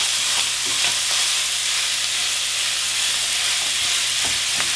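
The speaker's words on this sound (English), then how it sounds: "we want to brown our meat. You want to break it up." Ground beef browning in a pan for sloppy joes, sizzling steadily throughout with scraping and stirring taps as the meat is broken up, close and fairly loud with no talking.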